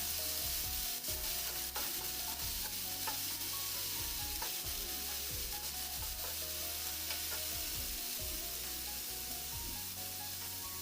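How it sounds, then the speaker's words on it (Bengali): Ground dried chilli spice paste being stir-fried in a pan, a continuous close sizzle with rhythmic scraping and stirring strokes throughout, fairly quiet and with no voices. "পাঁচটা শুকনো মরিচ বাটা এখন মশলাটাকে একটু নেড়ে চেড়ে হালকা কষিয়ে নিয়ে"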